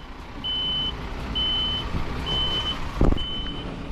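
A vehicle turning around sounds its reversing alarm, four evenly spaced beeps over a low engine rumble, with a brief thump near the end.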